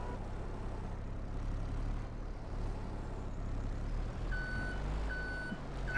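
A truck pulling a trailer backs up in Farming Simulator 22, its engine droning low and steady while a reversing alarm beeps in evenly spaced pulses toward the end, with a sharp hiss at the close.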